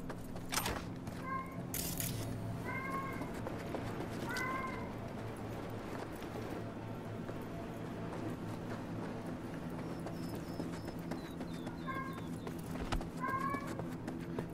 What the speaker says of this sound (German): Nicht wundern, das ist nur meine Katze.